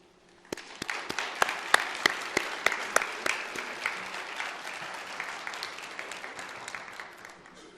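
Audience at a CMS Holocaust memorial program applauds steadily to welcome a survivor speaker, with sharp individual claps over a dense, sustained wash of clapping that slowly thins toward the end.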